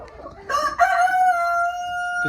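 A desi farm rooster, one of a black Australorp-type flock, lets out a single long, loud crow close by, preceded by a few short clucks and rising into a sustained drawn-out note.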